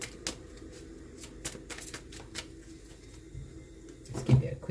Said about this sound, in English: With these reverse tarot cards, you have to shuffle them,